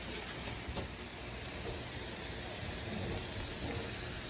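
Onion burgers in a pan, patties cooking on top of the onions, sizzle with a steady, even hiss and faint crackle, quiet and continuous throughout, no voices.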